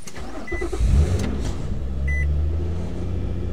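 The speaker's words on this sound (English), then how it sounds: "Let's go get the car started and see what happens." A car engine cranks briefly and catches, settling into a low steady idle rumble close by, with a few short electronic chimes.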